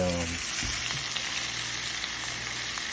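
Steak pieces sizzle steadily in a hot pan while being browned for stew, a continuous close frying hiss with a few light stirring knocks near the start and no talking.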